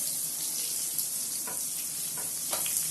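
A steady hiss of onion and urad dal sizzling in hot oil fills the scene, with a few faint clicks and scrapes on top.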